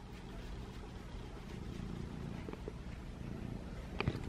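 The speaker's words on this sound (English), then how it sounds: "Oh, listen to those purrs." A cat purrs close to the microphone, a soft, low continuous rumble that runs steadily throughout, with a few faint clicks near the end.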